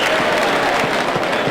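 A crowd at a fight, likely MMA, applauding and murmuring in a steady, dense wash of noise, with faint commentary voices running over it.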